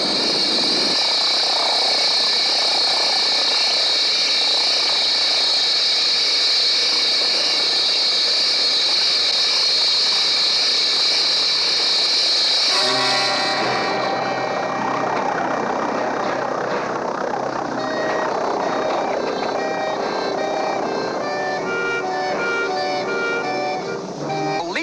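Propeller airplane engine droning loud and close as the plane flies low over a field during a stunt in which a man is tackled from a saddle, a steady roar that shifts in tone midway.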